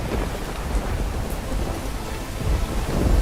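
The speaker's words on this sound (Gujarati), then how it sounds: "સાબરકાંઠા જિલ્લામાં વરસાદી માહોલ હિંમતનગર પ્રાંતિજગીર બ્રહ્મા સહિતના તાલુકામાં વરસાદ પડી રહ્યો છે" Steady rain pours during a rainy spell in Sabarkantha district, Gujarat, with a dense continuous hiss and low rumbling thunder underneath, moderately loud and unbroken, with no voices.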